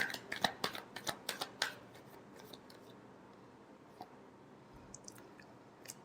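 Tarot cards being shuffled, a quick run of crisp riffling slaps and flutters packed into the first two seconds, followed by quiet room tone with a few faint, scattered card ticks.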